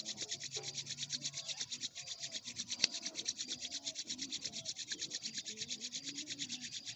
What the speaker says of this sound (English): rub your hand and you can feel heat, then more than rub